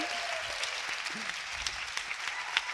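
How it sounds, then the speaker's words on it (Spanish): A stadium crowd applauds an esports player at a gaming event, with dense, continuous clapping throughout and a few sharper individual claps standing out. "Un fuerte aplauso para Lumarpin"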